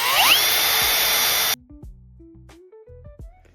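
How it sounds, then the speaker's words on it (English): A power drill boring holes in metal for a DIY foot brake on an electric pit bike, a loud high-pitched whirring burst lasting about a second and a half, then stopping, followed by faint knocks and tones. "let's measure out these holes and drill them while I'm at it"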